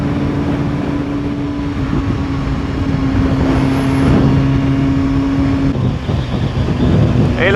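A supersport motorcycle engine at high speed, close to 300 km/h, holds a loud, steady, continuous drone with a sustained tone throughout, plus a brief whine partway through and a slight shift near the end.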